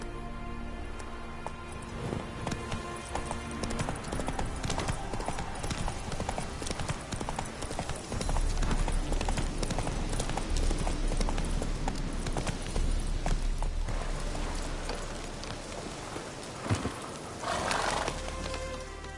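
Horse hooves pound rapidly in a running gallop in the fantasy video game The Witcher 3 Wild Hunt, loud and continuous beneath dense game music and ambience, with an occasional whinny.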